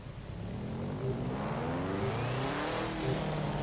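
A 1990 Subaru RS engine in the racing game Forza Horizon 4 holds a steady, loud revving drone with rising harmonic sweeps, continuous and up close with no talking.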